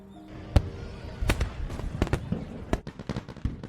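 Fireworks from the animated film A Silent Voice burst in scattered sharp bangs and crackling pops at irregular intervals, some loud and close, others lighter, over a soft background.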